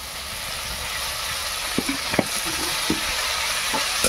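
Water spinach and drumstick leaves frying in a pan give a steady close sizzle, with a few soft scraping knocks as the greens are stirred.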